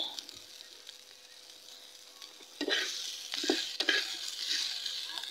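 Something frying in a little oil in a pan, a faint sizzle at first that gets louder midway as it is stirred and scraped a few times, close by and with no voices.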